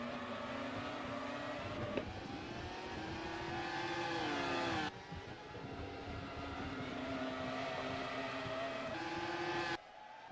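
Formula 1 cars from the AI F1 Challenge racing game at the 2004 Spanish Grand Prix scream past in a continuous high-revving drone, engine pitch rising and dropping sharply with each gear change, loud and alone.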